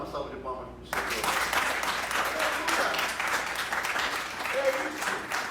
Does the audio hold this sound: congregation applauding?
yes